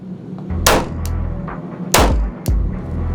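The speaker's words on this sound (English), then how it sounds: "But if I shoot him again" Two sharp simulated gunshots in a digital shoot house training simulator, each a loud close crack followed by a shorter clatter, set over a low steady hum.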